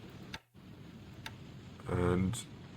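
A computer mouse clicks during a War in the Pacific strategy game, making a couple of soft, quiet ticks spaced apart over faint background noise, with a brief murmur of voice.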